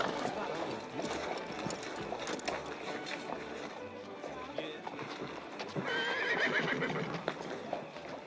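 Horses whinny and hooves clop on the ground nearby, with busy street commotion and voices mixed in.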